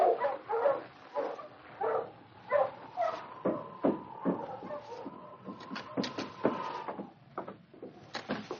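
Sled dogs bark in quick repeated bursts, several animals overlapping in a lively, close chorus with a sustained whine threading through, as staged sound for a 1952 radio drama of the Yukon.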